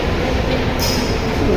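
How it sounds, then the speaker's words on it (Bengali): Busy Kolkata metro station ambience near an escalator, a dense, loud wash of crowd and rumbling rail noise with a brief high hiss partway through. "আমরা এখন মেট্রো রেল নিচে থেকে নামছি"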